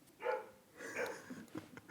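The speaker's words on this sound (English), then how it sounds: "I'm just going to carry on even though my dogs are barking." Several pet dogs barking indoors in a few short, fairly faint bursts with quiet gaps between them, without any voices over them.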